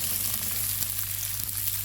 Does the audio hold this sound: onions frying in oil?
yes